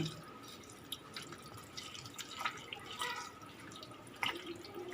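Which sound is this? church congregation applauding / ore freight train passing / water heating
water heating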